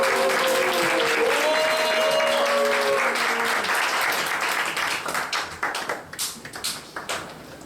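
Warm applause from a church youth worship congregation greeting someone coming up to give testimony, loud and sustained, thinning to scattered claps near the end, with a few tones heard early on.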